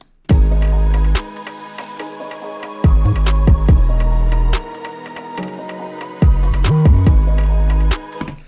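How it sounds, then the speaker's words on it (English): A loud drill-style drum beat with deep sliding 808 bass hits, crisp snares and rapid hi-hat rolls, playing alone in a syncopated pattern. "Do you want your drill drums to sound like this?"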